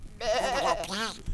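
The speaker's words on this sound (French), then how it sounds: "Oh! Un mouton! Un petit mouton!" A small sheep gives one wavering, nasal bleat that lasts about a second, close and fairly clear, with a brief soft sound at the end.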